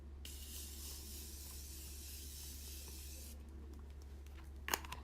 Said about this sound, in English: So now I'm gonna go ahead and set my entire face with the Morphe setting spray.